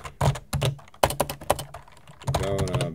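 Typing on a computer keyboard, with close, crisp keystrokes arriving in quick bursts separated by short pauses.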